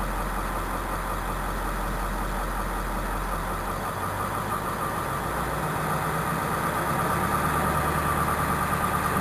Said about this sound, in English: it will again restart the predetermined time cycle and automatically raise the idle back up